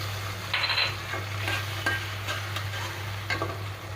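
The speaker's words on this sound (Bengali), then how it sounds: "দিয়ে দিচ্ছি আদা রসুন পেস্ট" Frying mutton for a papaya and mutton curry as ginger-garlic paste goes in, with soft sizzling, a steady low hum and several short clinks and scrapes of stirring spread through the clip, close by and fairly quiet.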